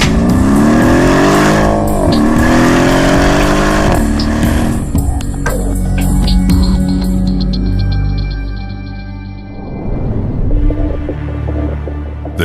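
A loud AMG 5.5-litre V8 biturbo car engine roars and revs continuously, with rising and falling pitch and a brief squeal-like burst near the start.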